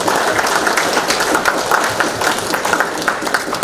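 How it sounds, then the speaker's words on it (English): An audience gives Barry a round of applause, a loud, dense, continuous clapping that holds steady throughout with no voices on top. "Give a round of applause for Barry, please"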